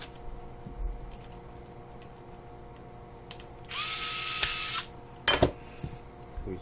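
A small power screwdriver drives a screw into a servo motor bracket, one short high whirring burst in a quiet workspace, followed by a couple of sharp clicks and a brief clatter.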